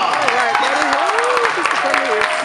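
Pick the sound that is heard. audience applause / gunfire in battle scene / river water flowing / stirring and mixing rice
audience applause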